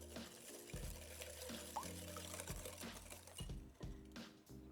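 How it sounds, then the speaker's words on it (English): Eggs are whisked into pumpkin bread batter in a bowl, giving faint, quick, uneven clicking and wet patter up close with no talking. "Let's whisk these together until nice and combined."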